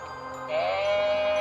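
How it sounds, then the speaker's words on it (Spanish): A tethered sheep gives a single drawn-out plaintive bleat that rises in the middle of the clip, fairly close and heard alone against a quiet background. "la pobre oveja atada pedía socorro"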